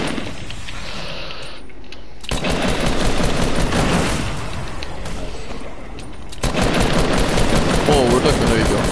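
Sustained automatic gunfire in a shooter video game, two long loud bursts of rapid shots separated by a quieter stretch, with talk partly underneath.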